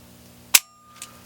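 A single sharp report from an Umarex CO2 Smith & Wesson 327 TRR8 air revolver fired single action, loud and close, followed by a fainter metallic click a moment later.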